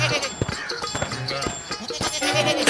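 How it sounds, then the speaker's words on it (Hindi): A goat bleats several times in short, wavering calls spread across the moment, fairly close and clear against a busy background. "राम राम सुमन काकी, इतनी धूप में इस बकरी को गोद में उठाए कहाँ चली जा रही हो?"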